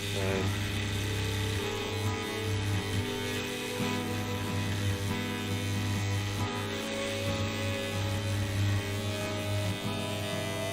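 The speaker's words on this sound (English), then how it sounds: "this thing's off just vibrating back and forth, little mini jackhammer, dental tool, whatever you want to call it" A small vibrating fossil preparation tool, like a mini jackhammer, buzzes continuously as it chips away at rock, a loud steady high-pitched whine with harmonic hum and slight shifts in tone as it presses the stone.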